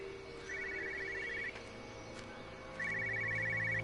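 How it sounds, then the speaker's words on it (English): A telephone rings inside a car in a video game: two bursts of a rapid electronic trilling bell, separated by a short pause, over a low ambient hum, with no talk. "I hear a phone. Where is that? In this car?"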